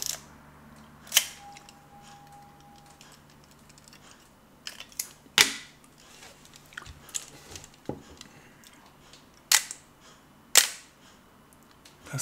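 A Minolta SR505 film camera shutter fires at a one-second exposure, with sharp mechanical clicks spaced about a second apart, close up and among other handling clicks, with no talk.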